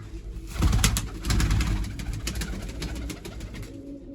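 Captive pigeons, flying and large birds being sorted apart, coo in a steady low drone. Louder bursts of rustling and fluttering sound close by near the start and middle, with no voices.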